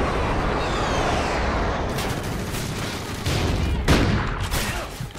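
Rapid video game gunfire, dense bursts of shots crackling in quick succession, loud and close, with a heavier burst near the end.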